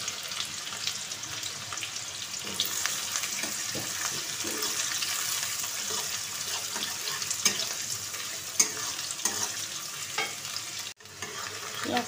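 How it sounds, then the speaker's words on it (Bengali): Chopped onions dropped into hot oil in a wok for a potato and onion chow mein, crackling and sizzling steadily and close by with faint stirring scrapes. "কড়াই তেল বসিয়েছিলাম, তেলটাও গরম হয়ে গেছে। কুচনো পেঁয়াজ দিয়ে দেবো"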